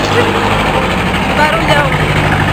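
Car engine idling close by on a busy city street, a steady low rumble under loud street noise while a person talks over it.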